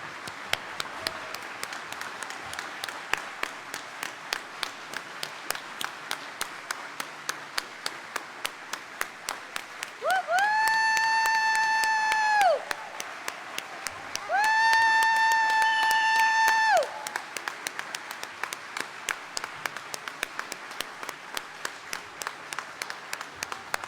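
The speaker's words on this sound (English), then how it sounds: "please stand and turn to face your family for a big round of applause" Families at an 8th grade celebration applaud the students with sustained, even clapping from a crowd, joined partway through by two long, steady tonal blasts that sound one after the other over the clapping.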